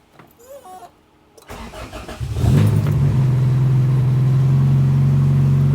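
A Honda CRX engine fitted with a Radium fuel system cranks and catches after a quiet moment, then settles into a steady, loud idle that holds close by.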